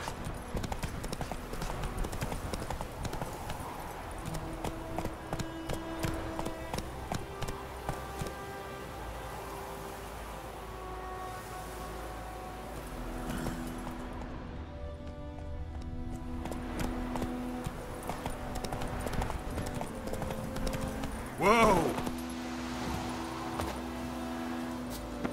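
Hooves of the horse Roach clip-clopping steadily through The Witcher 3 game world, a continuous rhythmic gait heard close over ambient game music, with a brief louder burst near the end.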